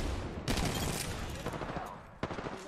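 Gunfire in Apex Legends, including an R-345 pistol shot from long range: dense bursts of shots and impacts with a sharp single crack near the end, under a busy game mix.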